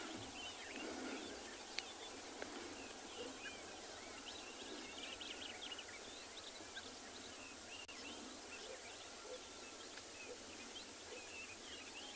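Birds calling at a water's edge in the African bush on a morning safari in South Africa, with scattered chirps and tweets over a steady insect hum, all fairly faint and distant.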